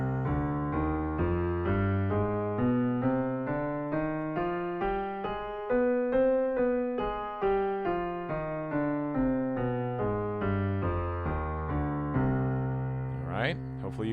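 Piano notes of a C harmonic minor scale climb and descend in an even, steady sequence, each note clearly struck and ringing close and clear with no talking over it.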